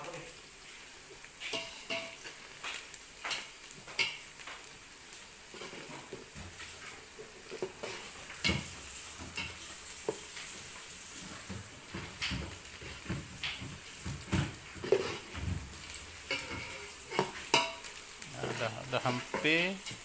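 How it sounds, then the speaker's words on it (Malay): Onions sautéing in a pan for nasi arab, a steady sizzling fry with irregular stirring clatter and scrapes throughout, close and moderately loud, with no talk. "Proses menumis ni mengambil masa beberapa minit, Supaya kuning."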